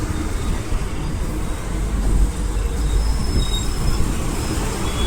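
A metro train rumbles steadily past overhead, a heavy low roar with faint squeals of wheels on rails and no voices, at Zero Mile in Nagpur.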